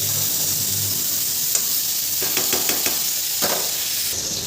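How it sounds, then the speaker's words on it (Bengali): Cauliflower pieces fry in hot oil, giving a continuous close sizzle and hiss with a few light knocks and scrapes of a utensil against the pan. "ফুলকপিগুলো তো ভাজা হয়ে গেলো"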